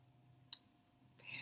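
Computer mouse right-clicking: two faint, sharp clicks roughly half a second apart, close by over a low background hum.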